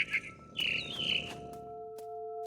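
Mama bird in the video game What Remains of Edith Finch, a few bright chirps and a warbling call close by, followed by a sustained tone and sparse clicks.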